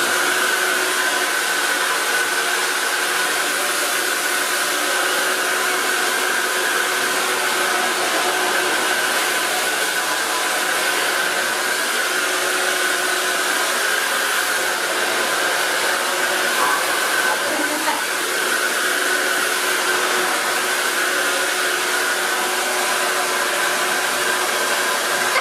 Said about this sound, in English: It's a hair dryer. I'm gonna attempt to hair dry his hair.